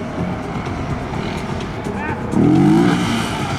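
A Honda CB300R 300cc motorcycle on a gymkhana run, its engine droning steadily at a moderate distance and rising briefly in a short rev near the end.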